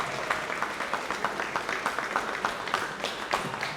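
A seated audience at a tax-themed evening event claps for a guest speaker, a steady, moderately loud round of applause with a brisk, even rhythm and no talking over it.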